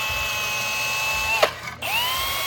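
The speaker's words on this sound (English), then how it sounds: "So I am drilling the corners just with a pilot hole so I can stick it in there." A power drill whines steadily while boring pilot holes in the corners of a fuel tank skid plate for an FJ40, dipping briefly as the bit bites through, then spinning back up, close and alone.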